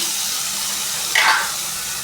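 Water runs in a home kitchen while pepper rasam is being cooked, a steady close hiss with one brief, brighter splash partway through.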